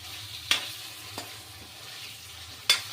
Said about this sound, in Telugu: ఇప్పుడైతే మనం దాన్ని బాగా రోస్ట్ చేసుకొని పెట్టుకుందాం.